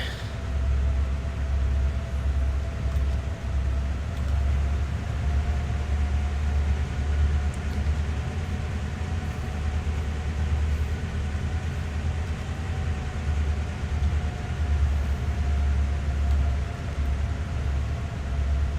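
A train of boxcars rolls steadily along the track in Train Sim World 6, a continuous low rumble with a faint steady whine, alone and unbroken.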